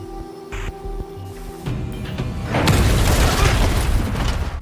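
A mechanical hum gives way to a sudden heavy boom as a door explodes in Squid Game, followed by a loud rumbling, crackling blast that lingers.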